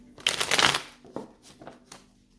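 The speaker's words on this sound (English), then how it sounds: "3 more shuffles for Taurus's person." Tarot cards are shuffled close up in one loud riffling burst, followed by a few softer taps and card slides as the deck settles.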